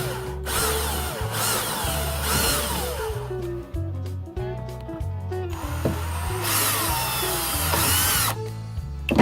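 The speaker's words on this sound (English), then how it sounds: "So drill in." A power drill whirs in repeated bursts, drilling into a MacGregor 26M sailboat, its motor pitch rising and dropping with ratcheting clicks between runs, close and loud.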